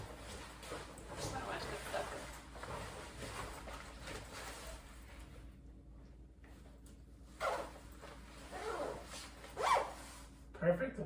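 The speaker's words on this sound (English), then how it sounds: "Would you be able to put that on and zip it up for me?" A jacket zipper is pulled up in a quiet room, with brief scratchy zipping bursts among rustling fabric and soft voices talking nearby.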